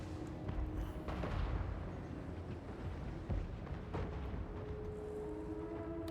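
Incoming enemy fire rumbles through a Total War: Warhammer 3 battle in the deeps, with booming impacts and eruptions over a constant low roar of combat, loud and sustained across the moment.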